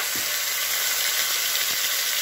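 Oxtails browning in a hot pan give a steady, loud sizzle and frying hiss that runs unbroken throughout, with no voices.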